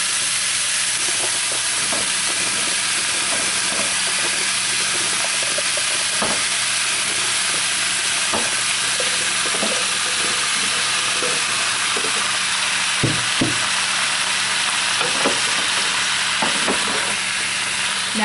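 Cabbage, sausage and potatoes fry in a pan, a loud continuous sizzle and hiss with occasional soft scraping knocks as the food is stirred.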